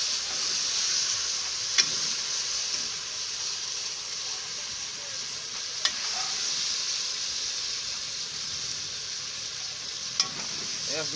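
Curry chicken stirred in a pot over steady, close-up sizzling, with a few sharp spoon knocks against the pot spaced several seconds apart.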